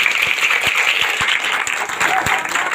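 An audience at a Republic Day (26 January) school function gives loud applause for the participants, a dense, close roar of clapping with a few distinct hand claps standing out and faint voices mixed in.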